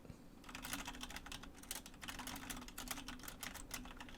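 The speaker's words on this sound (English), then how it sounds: "Sorry if you can hear typing there." Rapid, irregular clatter of keys on a computer keyboard, steady and fairly close for several seconds over a faint low room hum, with no voices.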